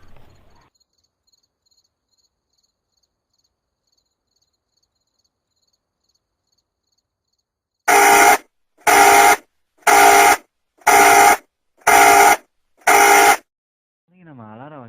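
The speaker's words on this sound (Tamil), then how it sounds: "நம்ம அலாரம் வைக்கவே இல்லையே" After a long near-silence, an electronic alarm rings in six evenly spaced loud beeping bursts, followed by a voice starting to speak.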